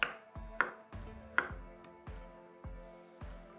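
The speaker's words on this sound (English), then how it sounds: "Cut into small pieces 150 grams of firm tofu" A knife chops firm tofu and baby corn into small pieces on a board, with about seven crisp, evenly spaced strikes close up and nothing else heard.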